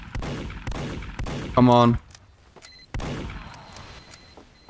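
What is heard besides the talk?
gunfire shooting a sentry gun in the video game Team Fortress 2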